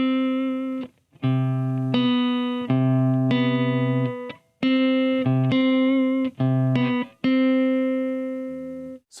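An electric guitar plays a major scale note by note, a series of sustained single tones with short gaps between them that climb and resolve up to the octave, ending on a final ringing note, with no voices.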